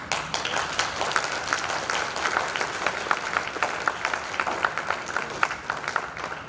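Audience applause from a crowd at a spiritual talk, steady dense clapping that carries on evenly for several seconds with no voices over it.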